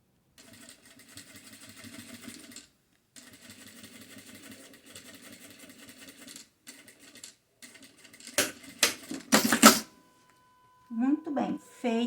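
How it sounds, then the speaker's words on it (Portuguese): A sewing machine stitching a patchwork organizer folder runs in steady mechanical whirring bursts, pausing between runs, followed by a few louder handling clatters near the end. "Dá um retrocesso ali e continua a costura."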